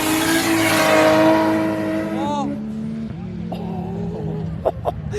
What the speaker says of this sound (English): it sounds like a Barra after boost